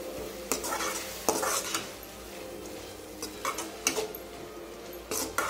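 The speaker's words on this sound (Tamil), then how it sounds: "ஓகே, நல்லா கீரை வதங்கிருச்சு." Mint, curry leaves, coriander greens and dried red chilies sautéing in a pan for chutney, a soft sizzle under repeated metal spatula clinks and scrapes against the pan, close and with no voices.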